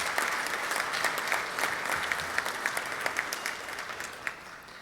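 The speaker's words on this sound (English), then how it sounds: "Let's give them a round of applause for their birthdays this week." Rotary club meeting members clap for birthdays, a moderately quiet room-filling patter of applause with a few sharp individual claps standing out, steady and then easing off.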